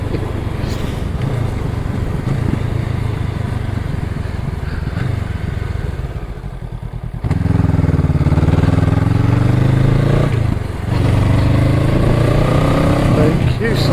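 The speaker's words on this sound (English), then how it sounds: "Oh, I do love short shifting on this." A Honda Rebel 500 motorcycle is ridden along a road, its engine droning loudly and steadily, then dipping and rising again as the rider shifts up early through the gears.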